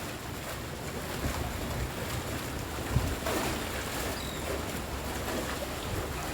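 Choppy, rough sea waves surge and wash around a barge at Claxton Bay in heavy rain, a steady broadband roar of water and rain with wind buffeting the microphone and a brief knock partway through.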